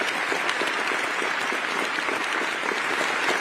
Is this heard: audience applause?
yes